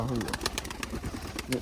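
Naktona pigeons, a Khulna breed, giving soft low cooing calls close by, with a few higher broadband bursts and some background noise.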